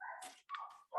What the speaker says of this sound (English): I have to excuse if you can hear the dogs barking.